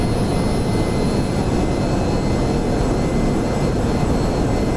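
Jet engines of a B-1A bomber roar at takeoff in a flight video game, a loud, steady, broadband rumble that holds constant throughout with no voices.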